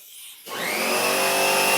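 An air compressor, used here for seating a tire bead, starts up after a brief quiet moment and quickly rises to a loud, steady motor whine with strong tonal harmonics. It keeps running alone with no talk.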